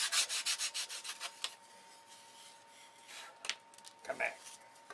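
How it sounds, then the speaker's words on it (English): A model aircraft stabilizer for a control line electric Thunderbolt being sanded by hand with sandpaper, a quick series of rhythmic rasping strokes followed by a few scattered, fainter rubs, all fairly quiet and close. "And I take the sandpaper in my hand."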